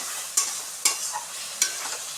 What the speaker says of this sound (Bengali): এবার আলুটাকে ভালো করে একটু কষাতে হবে মশলাটার সাথে